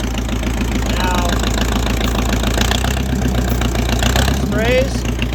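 A 1964 John Deere track loader's engine idles steadily and loudly up close, not yet warmed up, with a constant low rumble and knocking pulse throughout, plus a couple of brief squeaks.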